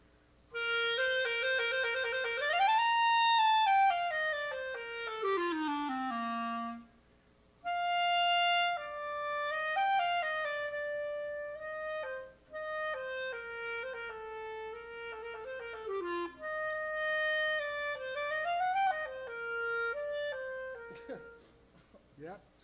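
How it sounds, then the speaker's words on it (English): Solo flute plays a melodic line of sustained and gliding tones, including falling and rising slides, with brief pauses between phrases, heard alone and close by. "that's the sound of the flute"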